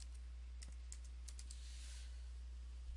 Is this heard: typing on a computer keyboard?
yes